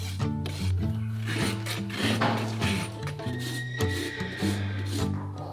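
A farrier trims a horse's long hooves at a horse shelter, making steady scraping, rasping strokes close by in a continuous rhythm, with faint tonal background sounds under them.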